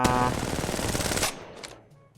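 Rapid automatic gunfire in Apex Legends Mobile rattles loud and close for about a second before cutting off and fading into a short reverberant tail.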